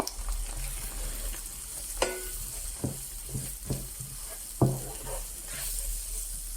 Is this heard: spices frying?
yes